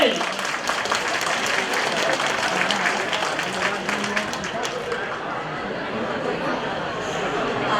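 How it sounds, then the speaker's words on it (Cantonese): Sustained applause from a crowd at a community fundraising event as Liang's mother is welcomed onto the stage, steady clapping filling the room throughout with light chatter mixed in. "我哋熱烈嘅掌聲歡迎！"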